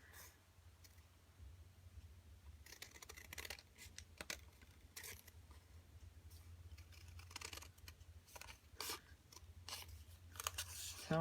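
Large scissors snip and crunch through paper in a string of close, uneven cuts over a quiet background hum.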